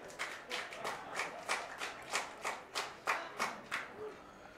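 Crowd at a mixed doubles table tennis match applauding in a steady series of about a dozen rhythmic claps, moderately distant, with no voices over it.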